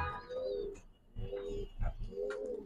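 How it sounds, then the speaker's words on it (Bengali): Pigeons coo repeatedly at a pigeon farm keeping high flyers, racers, giribaz and fancy breeds, the soft rolling calls coming close and clear in overlapping bursts with a few faint chirps behind. "এগুলো কি কবুতর?"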